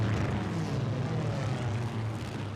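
Aircraft flying in for a Pearl Harbor war film scene, a dense continuous engine drone with low rumbling, loud and steady for a couple of seconds without pause.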